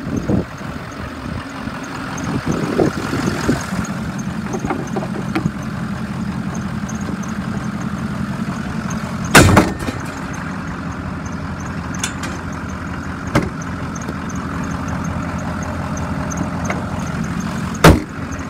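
A 2006 Ford E-450 20-passenger bus engine idles steadily after sitting unused for a long time, a low continuous rumble with a few sharp knocks and clunks scattered through it.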